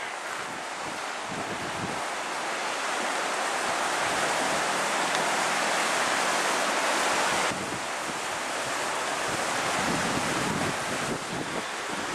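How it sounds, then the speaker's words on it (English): High Manuels River rushing below a railway track, a steady broad roar of flowing water heard from above, mixed with wind buffeting the microphone. "There's Manuels River from the railway track."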